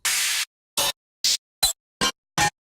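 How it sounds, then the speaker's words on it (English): Six short bursts of bright, airy metallic noise with the lows cut away, synthesized hi-hat hits built from metal samples with a very short release; the first hit rings longer, then five clipped ticks follow at an even pace, with no voice. "to get this some sort of hi-hat sound"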